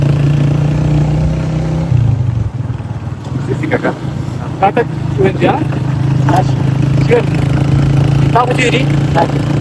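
A 125cc motorcycle rides a mountain road between Skardu and Khaplu in Gilgit Baltistan, its engine droning steadily and loud close by with a brief dip in pitch, while people talk over the riding noise.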